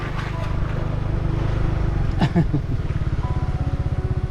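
Motorcycle engine on a village road, a steady low rumble that idles and then pulses more roughly toward the end, close by with a brief voice-like sound in the middle.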